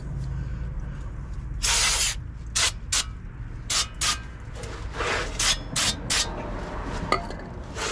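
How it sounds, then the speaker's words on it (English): Several short bursts of brake cleaner spray hiss onto a 1999 Ford F-150 rear brake assembly, some brief and some longer, separated by pauses, close by against a low steady background rumble. "I'm just kind of giving them a light spray."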